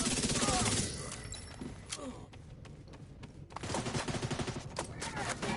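Rapid bursts of video game shooter gunfire crackle loudly, break off into a quieter gap, then resume with dense automatic firing, with a player's voice speaking over the action.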